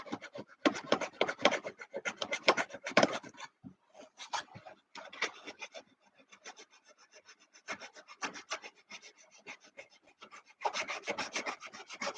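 Sandpaper rasps back and forth over the wooden turtledeck of a Sig Kougar model aircraft, in dense rhythmic bursts of strokes broken by a short pause and sparser scrubbing, close and fairly loud.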